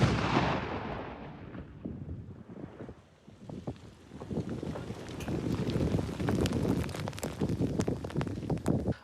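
A distant explosion of old mortar mines set off by a wire thumps out, followed by rushing wind noise and a scatter of crackling debris and rumbling aftermath.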